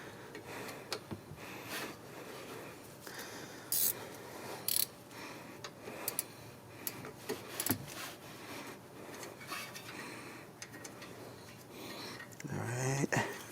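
Ratcheting socket wrench loosening a bolt on the front brake of a 2016 Honda CR-V, giving repeated close clicks and metallic clatter in irregular bursts with no talk over them.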